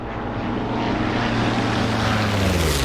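Propeller drone of a P-51 Mustang's piston aircraft engine in the DCS flight simulator, a steady, continuous roar with a low throbbing hum that rises slowly in pitch, loud and close, with no talking.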